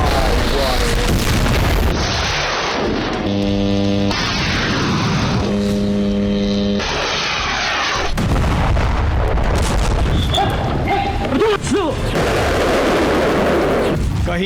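Air strikes and ground fighting: loud, continuous booming explosions and crackling gunfire fill the whole stretch, with sustained droning tones running through parts of it.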